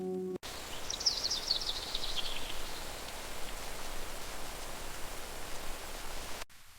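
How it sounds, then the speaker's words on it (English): Rain falls steadily outside, a constant soft hiss that holds evenly from start to finish with no voices. "This rain is so soothing, isn't it"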